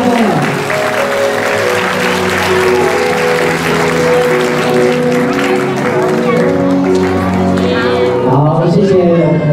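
An audience claps at a kindergarten graduation ceremony during the diploma presentation, with steady applause running throughout, mixed with voices and a tonal background.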